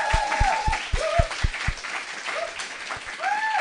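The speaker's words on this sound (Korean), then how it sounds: "다시 한번 박수 부탁드리겠습니다" Audience applause at a Korean talk show taping, a moderate crowd clapping steadily with a few sharp individual claps, while a voice speaks over it at times.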